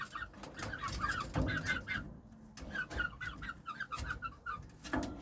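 Several Hint chickens, including a feather-footed rooster, cluck and chatter in a steady, overlapping run of short calls at close range, with a brief lull partway through.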